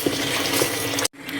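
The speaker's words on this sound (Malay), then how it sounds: "Masuk air." Water runs steadily from a tap into a pot of curry being cooked, a continuous loud splashing flow that cuts off abruptly near the end before resuming briefly.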